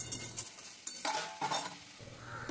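Bitter gourd frying in a pan for a mixed vegetable dish, with a soft sizzle under scraping and stirring clinks of a utensil against the pan.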